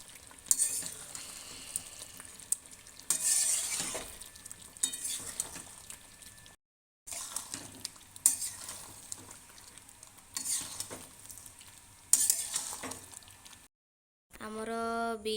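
Onions frying in a pan for a home-cooked chicken biryani, a steady crackling sizzle with occasional stirring scrapes, broken by two brief pauses and a clatter at the end.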